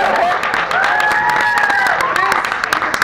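Applause and cheering from an improv comedy club audience at a class graduation show, lively clapping mixed with whoops and raised voices, fairly loud and close, with a tapering patter of claps at the end.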